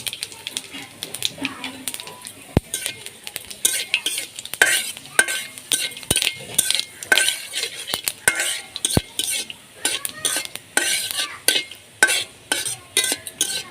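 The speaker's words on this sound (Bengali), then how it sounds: "ফোড়নটা হালকা ভেজে নিয়েছি।" Dried red chillies and cumin seeds fry in hot oil with a soft sizzle, under a steady run of quick metallic clinks and scrapes as the spatula stirs the tempering in the pan.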